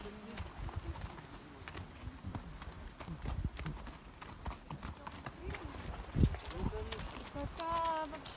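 Horse hooves clip-clop at a steady walking pace on a hard surface, with faint murmuring voices and background noise around them.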